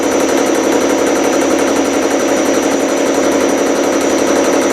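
A homemade milling machine converted from a pantograph runs at about 350 rpm, a loud, steady mechanical drone with a fast buzzing whine and constant vibration, no pauses.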